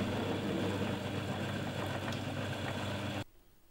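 A metal lathe takes a cut with a ground tool-steel parting blade, a steady mid-level whirring drone with faint chatter that runs for about three seconds and then stops abruptly, leaving quiet room noise.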